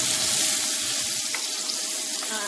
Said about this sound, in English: I'm frying my zucchini. I'm making fried zucchini.